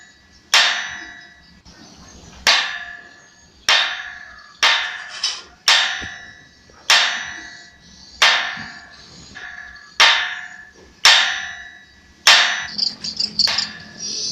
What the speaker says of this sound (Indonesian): Suaranya palu-palu meribut sekali.